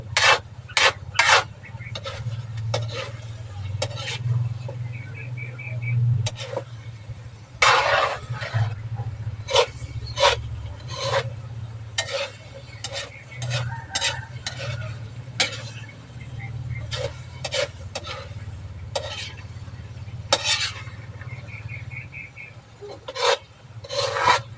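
A spatula scrapes and rasps against a pan while fried rice mixed with dried fish is stirred, giving repeated short scraping strokes in an uneven rhythm over a low steady sizzle.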